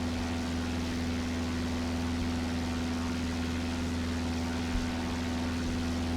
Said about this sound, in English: Doesn't really take too long to lift off this aircraft off the ground.